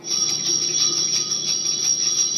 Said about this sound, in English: If you guessed a bell, you're right.